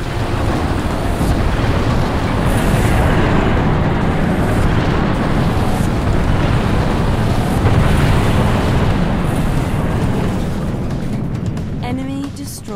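Orbital MAC cannon fire and explosions in Halo Wars, a dense, loud roaring rumble of blasts and debris that runs continuously throughout, with faint game tones near the end.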